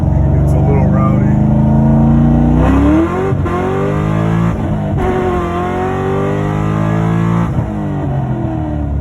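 A C6 Corvette with an LS3 fitted with aftermarket heads and cam revs and accelerates hard in first gear, a loud close rising engine note that eases off and climbs again, with a voice talking over it.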